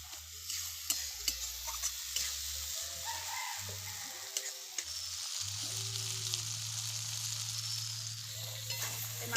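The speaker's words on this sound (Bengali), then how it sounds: "এতে মশলাটা দিয়ে শুধু মশলাটা কষে নেবো" Spice paste and fried garlic are stir-fried for a meat dish in a village kitchen, giving a continuous sizzle and soft scraping strokes with a few sharper clacks, plus a low steady hum beneath.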